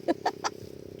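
A chicken clucks three times in quick succession, close by, with a faint steady hum in the background.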